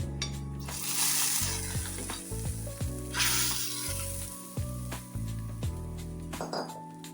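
Fried cashews and raisins stirred into tender coconut payasam, a soft sizzle and wet stirring running steadily under a sustained musical backing, close by with no speech.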